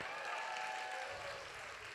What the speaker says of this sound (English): One more round of applause for both of our award winners.